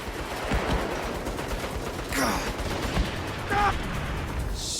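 Gunfire and an incoming airstrike in the video game Saints Row, with bursts of shots, whooshing passes and dull impacts layered over a continuous noisy combat bed, fairly loud and busy.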